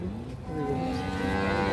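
A Holstein Friesian cow gives a low, drawn-out moo at a busy cattle market, steady and fairly close for under two seconds, with crowd noise around it.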